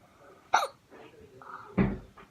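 A person with the hiccups lets out two sharp, loud hiccups about a second apart while doing makeup, with faint breathy vocal sounds between them in a quiet room.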